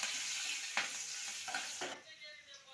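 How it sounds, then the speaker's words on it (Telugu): Curry leaves frying in hot oil with asafoetida for sambar give a steady, fairly loud sizzling hiss, with a few sharper crackling bursts before the sound thins out near the end. "కరివేపాకు కూడా వేసుకోవాలి"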